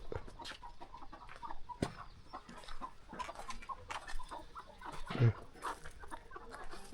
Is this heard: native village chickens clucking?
yes